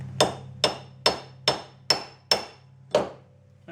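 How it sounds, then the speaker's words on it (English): Seven light, evenly spaced hammer taps ring out on front-end parts of a 2004 Jaguar S-Type, each a sharp metallic knock with a brief decay, close and clear. "Now what I'd like to do is just give them a little tap just to get them started a little bit."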